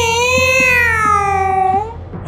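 A cartoon cat in a Bengali horror cartoon gives one long, loud, close meow that slowly falls in pitch.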